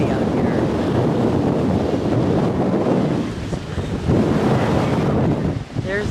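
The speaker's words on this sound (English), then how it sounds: "it is ridiculously windy out here" Strong wind buffets the microphone on a beach in Naples, Florida, a loud continuous roar with rough Gulf surf rumbling underneath and a brief lull near the end.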